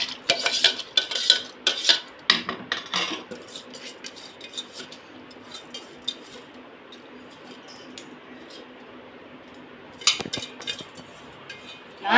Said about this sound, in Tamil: இப்போ அரிசியை போட்டுடலாம்